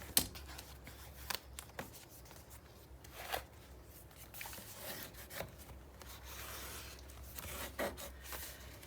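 Firm, quiet rubbing strokes burnish tape down on a paper mini album, with scattered soft scrapes and brief papery taps close by.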